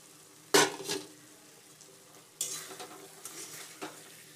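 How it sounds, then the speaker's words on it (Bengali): Pre-fried meat drops into hot spiced oil in a pan, two sudden bursts of sizzling with clattering stirring, then a quieter crackle fading between them. "ভেজে রাখা মাংসটা এবার এর মধ্যে দিয়ে দিলাম।"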